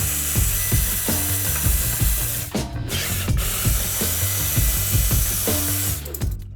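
Ratcheting wrench clicks in quick repeated bursts as D-hook tie-downs are unbolted from the floor of a 2024 Ram ProMaster 3500 cargo van, close and steady with short pauses between runs of clicks.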